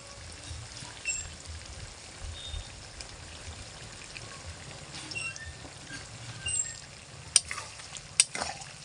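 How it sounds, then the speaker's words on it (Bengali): Chilli chicken is stirred in a pan with tomato sauce, giving a steady low frying hiss with soft scraping and two sharp metallic clinks near the end. No one speaks. "টমেটো সসটা দিয়ে ভালো করে নেড়ে নেব।"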